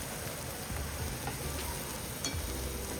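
Chopped onions fry in hot oil in a pan for a Punjabi dal of urad and chana lentils, giving a steady broadband sizzle that stays even and fairly close throughout, with no talking.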